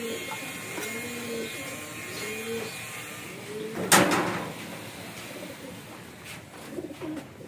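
Racing pigeons coo in soft repeated rounds nearby in a loft, with a sharp rustle or clatter midway through as a bird is picked up.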